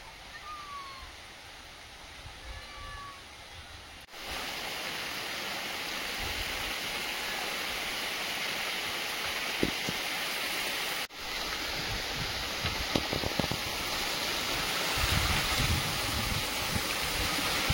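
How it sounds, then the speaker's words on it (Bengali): Sudden heavy rain pours outdoors in a steady, dense wash of noise that thickens after a few seconds, with faint scattered taps and drops against it and no voices. "এখন হঠাৎ আবার বৃষ্টি চলে এসেছে"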